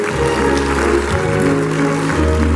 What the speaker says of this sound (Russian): аплодисменты зала